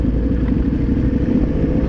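A group of motorcycles, Ducati and BMW machines on an organized ride, engines droning steadily and loudly close by, a continuous rumble with no talk.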